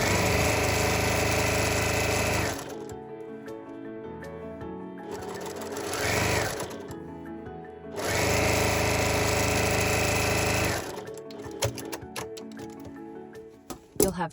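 A sewing machine stitches the top edge of layered outer and lining fabric for a Christmas tree gift bag, running in two long, loud, steady bursts separated by a quieter pause, then a few clicks and handling noises.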